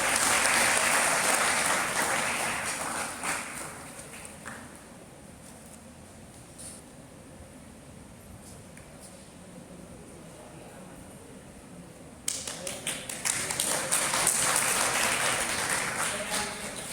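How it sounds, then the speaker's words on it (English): Audience applause at the launch of a science magazine, the Unity Spectrum: loud, dense clapping opens, fades to a low murmur in the middle, then bursts back in strongly near the end. "Can we have a round of applause"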